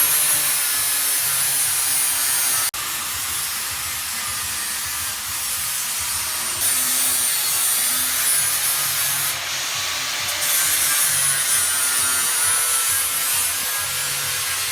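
An angle grinder works steadily in an artist's studio, a loud continuous abrasive hiss and whine with slight shifts in pitch, no voices.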